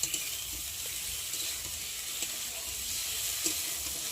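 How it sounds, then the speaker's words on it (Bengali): Thin strips of potato and eggplant fry in hot oil, giving a steady, close sizzle with a few brief pops and spatters throughout. "আর এখন ভালো করে বেগুনটাকে ভেজে নেব।"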